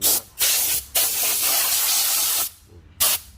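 Bursts of compressed air blast dust out of a van's interior during a deep clean, loud hissing gusts starting and stopping in short repeated blasts with brief pauses between them.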